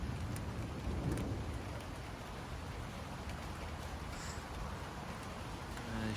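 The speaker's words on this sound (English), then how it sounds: "You got thunder happening. Yeah, I think you guys can hear it. You got rain happening." Rain falls steadily during a thunderstorm in Thunder Bay, Ontario, a constant soft hiss with low rumbles of thunder rolling underneath, fairly quiet and distant.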